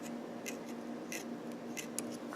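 Scissors snip tying wire while a fly is being tied, a few quiet, close clicks and cuts spaced irregularly over a low background hum.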